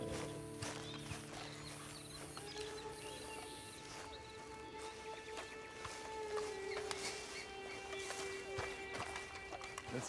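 Horse hooves clip-clop at a steady gait in the Red Dead Online video game, a continuous rhythm of moderate loudness set against a game soundtrack with sustained tones.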